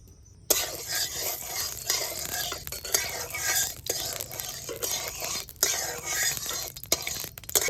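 Mustard oil heats in a wok with a close, busy sizzle broken by scraping and clinking of a utensil against the metal, the hiss swelling and dipping irregularly.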